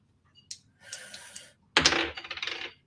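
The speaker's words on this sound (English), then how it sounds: "Roll them dice." Dice clatter and tumble across a table in the board game Final Girl: Panic at Station 2891, first a short shake, then a loud close burst of rattling that settles in quick bounces, with no talk.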